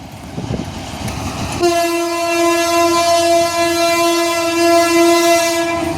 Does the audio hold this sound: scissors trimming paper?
no